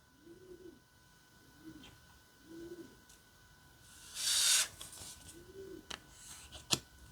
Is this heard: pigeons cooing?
yes